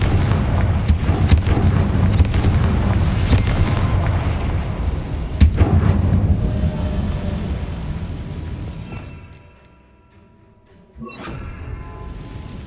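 Confringo blasting spells exploding in the game Hogwarts Legacy: a dense run of loud, close booms and bursts with rumbling low end, several sharp cracks, then a fading tail and a brief quiet before one more burst.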